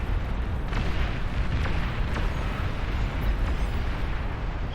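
A behemoth unit fires in Beyond All Reason, producing a dense, rumbling explosive roar that fills the whole stretch, with heavy low booms and crackling bursts layered over it.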